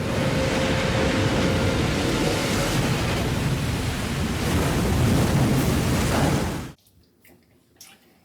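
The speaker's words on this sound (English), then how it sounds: "All right, let's rinse off real quick." Water from a running tap splashes steadily while a face is rinsed after shaving, a loud continuous rushing wash that cuts off abruptly near the end, leaving faint small sounds.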